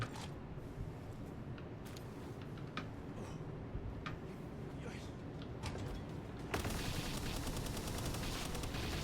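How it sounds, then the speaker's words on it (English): Turret gunfire in a video game set on an oil rig: rapid sharp shots crackle in scattered bursts over a dense, steady game background, growing brighter and louder near the end. "That sounds like a turret"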